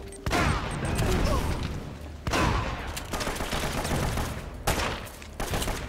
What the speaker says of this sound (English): I'm watching this exciting gunplay